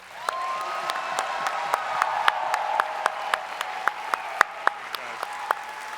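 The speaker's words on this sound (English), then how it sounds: "Please give them one more round of applause" Sustained applause from a large convention audience at a closing ceremony, with sharp individual claps standing out over dense clapping, a few cheers and a held whistle or tone running beneath, steady throughout.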